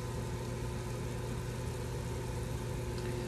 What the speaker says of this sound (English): Let me turn on the exhaust here so that some of the moisture from the vapors can get out of the kitchen.